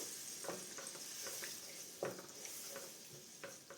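Soya curry stirred in a pot after water is added, soft scraping spoon strokes and light knocks over a faint sizzle and hiss, close but quiet, no voices.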